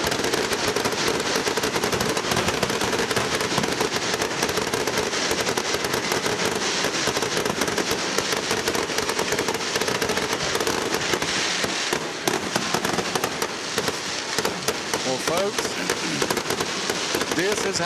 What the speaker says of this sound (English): The Vikings from Ripley come out underneath the fireworks.